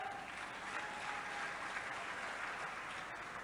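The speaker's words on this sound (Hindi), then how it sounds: "अरे तालियां बजाओ।" A crowd at a chief minister's public rally in Gwalior claps continuously for a few seconds, a steady, somewhat distant wash of many hands.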